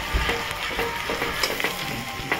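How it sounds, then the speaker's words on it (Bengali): Onions frying in a pan of oil for a meat dish at a night picnic, a steady close sizzle with light scattered crackles and faint stirring clicks, no voices. "তো পেঁয়াজটাকে সুন্দর করে লাল করে ভেজে নিতে হবে প্রথমে।"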